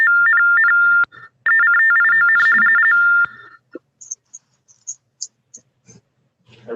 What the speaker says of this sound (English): My alarm went off on my phone.